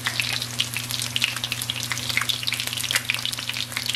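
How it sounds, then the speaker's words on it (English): Steady crackling sizzle of hogfish frying in a hot pan, close and continuous, with a low hum underneath. "Got some fish frying up"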